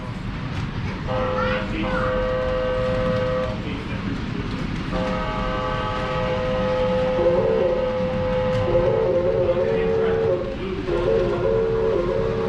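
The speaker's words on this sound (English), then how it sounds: "Really neat, got the horn sounds and everything." A toy model train horn at a toy train museum in Strasburg, Pennsylvania sounds in several sustained tooting blasts over steady background rumble and some murmured talk, the later notes wavering up and down.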